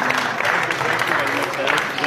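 Audience applause at a Punjabi poetry gathering welcoming poet Professor Shehzad Ahmad Joiya to the stage, a steady dense wash of clapping throughout with a crowd murmur mixed in.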